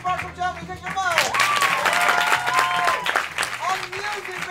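Enthusiastic audience applause at an improv festival in Paris, loud and sustained clapping and cheering from a crowd, with an announcer's voice shouting over it.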